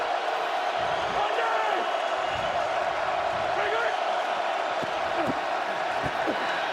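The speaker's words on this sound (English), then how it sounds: "the Seattle crowd starts to make noise" A broad, steady roar of a large stadium crowd at a Seattle Dragons versus Dallas Renegades football game, with a commentator talking over it.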